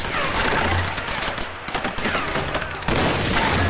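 Grenade blasts and bursts of gunfire from the Tomb Raider video game crack out in rapid, loud volleys, dense and chaotic throughout the short stretch.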